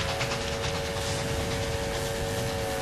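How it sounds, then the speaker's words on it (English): A Civil War era train packed with Union troops and supplies speeds south along the rails, a steady rumbling roll with a high whine and hiss, close and continuous throughout. "packed train speeds on its way south, ready to replenish the Union Army with fresh troops and supplies"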